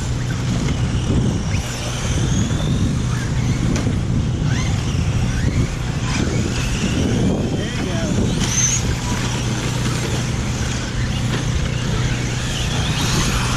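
Radio-controlled cars racing around an indoor hobby raceway, their motors whining steadily with passing surges and occasional clatter, heard under continuous race commentary.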